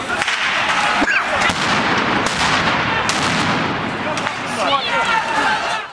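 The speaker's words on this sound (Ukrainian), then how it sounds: "пропонуємо нашим телеглядачам глядачам на власні очі побачити та почути дію такої гранати" Grenade detonation, loud and close, heard within a chaotic stretch of repeated blasts and gunfire-like cracks, with voices shouting over the noise.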